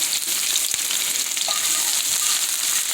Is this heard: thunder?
no